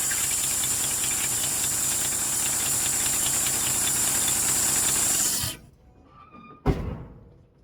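A 1961 Rambler American engine idles steadily with its rebuilt exhaust, a continuous hissing mechanical drone that cuts off abruptly near the end, followed by a faint pause and one short sharp knock.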